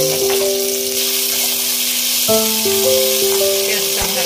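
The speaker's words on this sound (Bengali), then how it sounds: "পেঁয়াজটা হালকা করে ভাজা হয়ে গেছে।" Onions frying lightly in a pan for a cauliflower and cashew do pyaza curry give off a steady, even sizzle throughout, heard under sustained tonal notes in the background.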